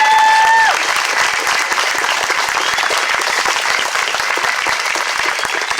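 A rally crowd at a unity march claps and cheers for the whole stretch, a dense, steady wash of applause, with a brief whistle at the start.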